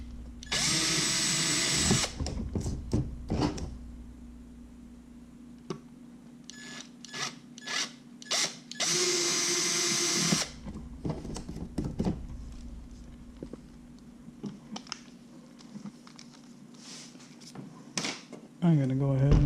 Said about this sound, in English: I'm going to use a pilot drill so I can get it really close to center.